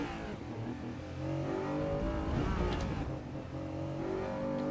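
Mid-engine V6 car in Assetto Corsa Evo at Brands Hatch, its engine note droning steadily with harmonic whine and a brief rising rev in the middle, close and continuous with no talk.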